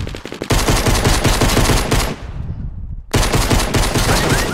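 Rapid automatic gunfire in Fortnite aimed at a player, loud and close, with dense bursts of shots, a brief lull with a fading tail, then the firing resumes just as hard.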